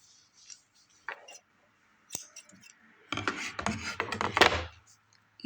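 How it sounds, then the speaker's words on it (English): Scissors snip the frayed end of a sewing thread while threading a needle indoors: a few soft, crisp clicks and rustles near the mic, then a denser burst of snipping and handling noise toward the end, with no talk. "If it's frayed, you want to cut it."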